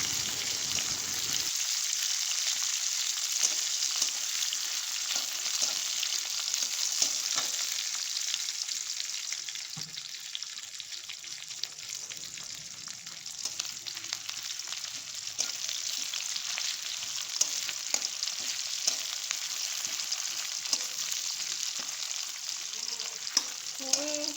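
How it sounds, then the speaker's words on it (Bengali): Finely chopped garlic fries in oil for a chilli achar, with a constant, crackling sizzle that runs unbroken at moderate loudness. "রসুনটাকে ভালো করে ভেজে নেব।"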